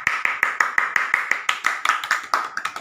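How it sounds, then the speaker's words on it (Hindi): A family claps for the winner of a home game, a steady run of about fifteen sharp, close hand claps from a small group, with no talking. "तालियां।"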